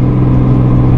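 A Cummins 6.7 diesel truck engine labours under heavy load with a loud, steady low drone and a strong hum that stays constant through the brief stretch.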